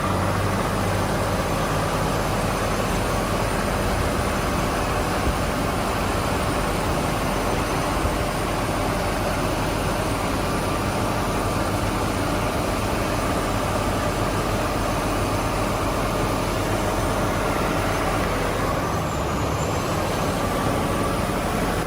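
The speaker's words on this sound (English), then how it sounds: "But let's see if the Iveco can pull off the same job the Kamaz did with the first truck." An Iveco truck engine labors under load while pulling another truck, a loud, continuous heavy diesel roar held steady throughout with no talk.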